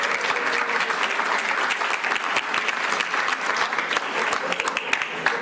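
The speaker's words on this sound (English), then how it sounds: "let's give it another big round of applause" Dense, continuous applause fills a township committee meeting room as a crowd of attendees claps steadily and vigorously at close range.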